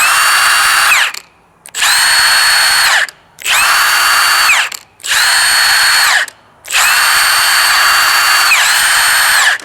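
A Milwaukee Fuel 1/2 inch 2767 impact wrench spins free in five loud, close trigger bursts. Its high whining motor ramps up at the start of each burst and winds down at the end, with brief silent gaps between them.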